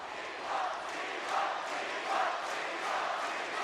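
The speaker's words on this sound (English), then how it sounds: "the crowd is loud" An esports arena crowd at a League of Legends match roars in a steady, distant wash of cheering that swells in several waves.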